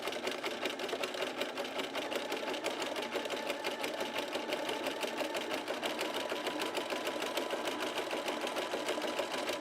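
Close by, a sewing machine fitted with a zigzag foot runs in one steady, fast, rhythmic stitching stretch on a bralette, its needle ticking evenly throughout with no talking.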